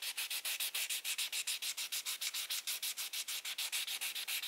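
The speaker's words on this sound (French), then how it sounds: "je fais tourner mon polissoir" A fingernail being buffed with a nail buffer in quick, regular back-and-forth rubbing strokes, about six per second, bright and scratchy, close and alone.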